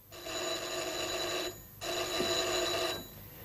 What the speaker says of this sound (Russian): Звонят вам, а я должен снимать трубку.